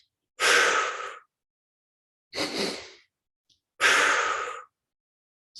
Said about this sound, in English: We're going to go with 2 quick breaths in through the nose,